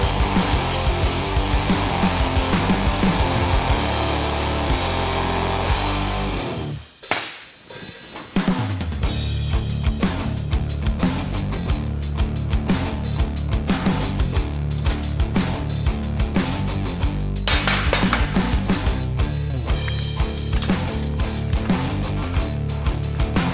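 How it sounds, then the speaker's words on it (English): An angle grinder grinds mill scale off welded steel on rolling car stands, producing a loud, continuous harsh rasping that cuts out briefly early on and then resumes steadily. "Remember, keep grinding off your mill scale."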